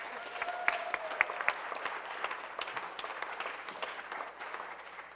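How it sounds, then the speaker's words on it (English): An audience applauds with a dense, steady patter of many hands clapping, sustained for several seconds. "Clap, it's wonderful to have Carol's fans here"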